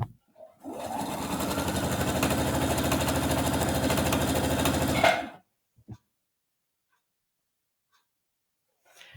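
A sewing machine stitching a scrubs bag runs in one continuous fast whirring burst for about five seconds, then stops, followed by a few faint clicks and near silence.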